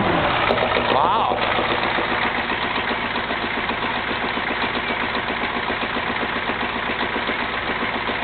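A Ford 6.9 diesel engine idles steadily and close by, a constant low rumble with an even rhythmic chug throughout, its return check valve prone to clogging and the exhaust running white smoke.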